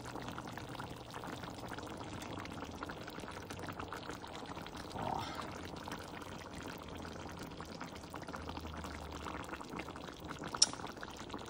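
Canned jackfruit pours into a cooking pot for ginataang langka, a coconut-milk jackfruit stew with galunggong and sardines, making a steady wet, rushing pour that runs the whole time with no talking.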